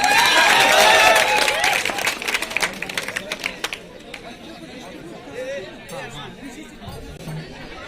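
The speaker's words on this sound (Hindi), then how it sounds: "आइए अरमान सर के लिए जोरदार तालियां" Loud, dense clapping from a school audience welcoming an Urdu teacher at a science quiz prize ceremony fills the first four seconds, then fades into a murmur of crowd chatter.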